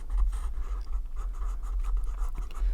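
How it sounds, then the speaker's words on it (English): A pen drawing continuous-line flowers on paper, producing soft, steady scratching strokes close up with a low background hum and no talking. "I don't know how well it'll pick up the sound of the pen"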